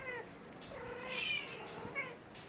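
A cat meows in a few short, rising-and-falling cries at close range, with a rough, noisy background and no clear speech.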